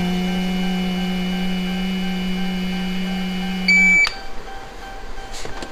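A steady electronic tone from a car ignition interlock device holds for several seconds, then a brief higher beep sounds and cuts off, leaving quiet background.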